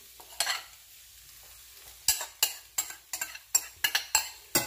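Sweet corn being stir-fried with rice in a pan for shrimp fried rice, heard as a close series of sharp, rhythmic utensil scrapes and clanks against the pan over a soft sizzle, with no talking.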